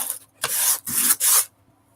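A craft surface is sanded by hand with sandpaper in three short, close scraping strokes separated by brief pauses.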